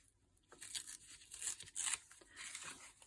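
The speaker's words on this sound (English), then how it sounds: "I'm going to rip one of these out" Paper is ripped from a craft pad in a few close, crisp tearing strokes, with rustling in between.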